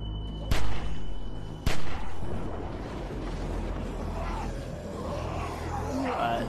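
Two loud, close gunshots from a weapon in The Walking Dead Season 2 video game, sharp separate blasts over a rumbling game background.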